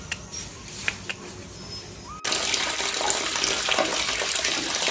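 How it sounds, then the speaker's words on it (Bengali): Water pours steadily into a container at home in the morning, a soft trickle that suddenly swells into a loud, full rushing flow that continues to the end. "জল ভরি"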